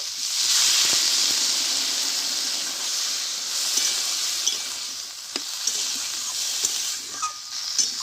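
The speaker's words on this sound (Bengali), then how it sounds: "মশলাগুলো দিয়ে ভালোভাবে কষে নিয়েছি আমি এবার পরিমাণ মতো জলটা দিয়ে দেব" Water goes into a pan of sizzling fried spice masala for a Bengali cauliflower-stalk vegetable dish. A loud hissing burst comes first, then it settles into a steady sizzle, and scattered stirring clicks run through the rest.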